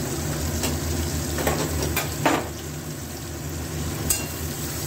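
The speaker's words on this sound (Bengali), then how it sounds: "পেঁয়াজটা একটু ভালো করে ভাজা ভাজা করে নিতে হবে।" Onions fry in shrimp oil for a cabbage and shrimp bharta, giving a continuous close sizzle with a few brief scrapes and clinks of a utensil in the pan.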